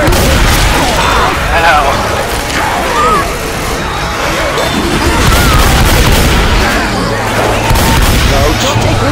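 Dense, rapid gunfire and booming blasts from several weapons pound at a Tank in the zombie shooter Left 4 Dead 2, loud and continuous with heavy impacts, while players shout briefly over the chaos.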